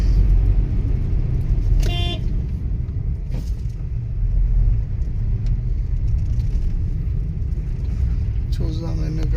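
A car driving along a road after rain, with a steady low engine and road rumble throughout and a couple of brief horn toots nearby in the background.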